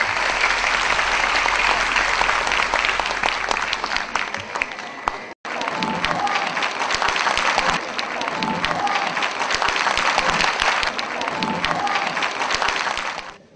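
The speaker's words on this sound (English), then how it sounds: "I think she needs a good hand of applause once again." An audience applauds a young Indian girl's dance performance with sustained, loud crowd clapping. There is a brief cut midway, then the clapping resumes with scattered voices beneath it.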